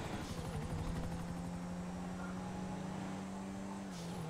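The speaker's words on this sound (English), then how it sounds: "there's a helicopter on there" Helicopter in the video game GTA V, a steady rotor drone with a strong low hum held throughout, loud and continuous with no talk over it.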